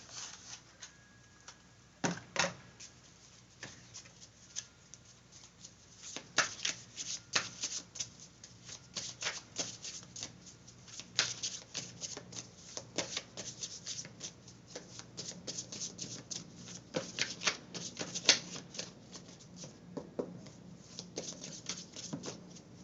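Tarot cards are shuffled for a reading in a long run of close, crisp riffles and soft slaps that keep up for over twenty seconds, with no talking.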